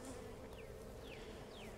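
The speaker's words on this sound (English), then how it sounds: "Okay, so we're brushing the bees away." Honeybees hum inside an open hive during requeening with a caged queen, a faint continuous drone with a few individual bees whining past up close.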